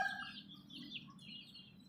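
Pet chickens clucking and calling on a small farm, a few faint bird calls over a steady low background hum, no talking.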